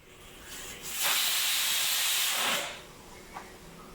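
Steam hisses from a pressure cooker whistle while potatoes boil, a broad rushing release that swells for about two seconds and then fades back into quiet kitchen background.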